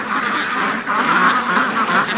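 A flock of free-range ducks quacks continuously at dusk, loud and close, with many overlapping nasal calls forming a dense, steady chorus.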